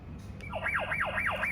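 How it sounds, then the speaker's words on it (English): A fall prevention sensor alarm goes off when a patient leaves a chair, a rapid warbling electronic tone that sweeps up and down in a steady repeating cycle, loud and close over a faint background hum. "as soon as the patient or the person gets out of the chair, it will trigger an alarm here"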